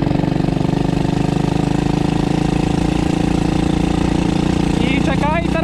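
A Loncin 110/125 motorcycle engine fitted with a turbo runs in a steady, loud, close drone, its pitch beginning to climb near the end as the throttle opens.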